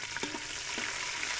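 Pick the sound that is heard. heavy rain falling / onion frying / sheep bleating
onion frying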